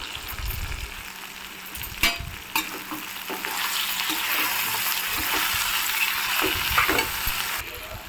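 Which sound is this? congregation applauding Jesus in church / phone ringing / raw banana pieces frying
raw banana pieces frying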